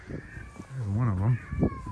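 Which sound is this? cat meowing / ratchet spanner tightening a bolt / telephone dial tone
cat meowing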